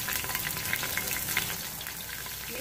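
A medium-sized onion frying in hot oil, giving a steady, even sizzle with faint crackles throughout, heard close and alone with no voices.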